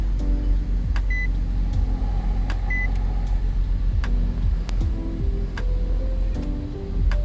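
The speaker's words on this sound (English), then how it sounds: "Then press the brake pedal and push the button once to start the car." A car with an aftermarket push-to-start and remote start kit starts and idles, a steady low engine hum with repeated clicks and short electronic beeps.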